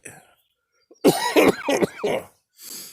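A burst of several harsh, hacking coughs up close, followed by a softer breathy cough after a brief pause.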